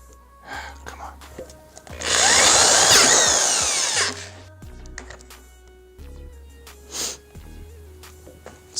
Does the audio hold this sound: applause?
no